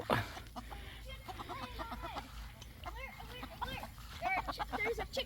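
A hen sitting on eggs gives a sequence of soft, close clucks and murmuring calls, with faint background noise and a voice speaking now and then.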